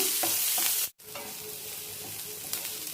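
Bitter gourd and onion fry in a pan, a loud, steady crackling sizzle close by, cut by a momentary silent gap early on.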